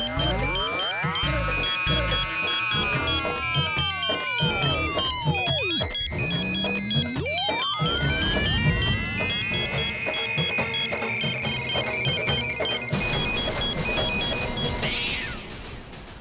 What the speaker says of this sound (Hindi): बज गई इस फोन की घंटी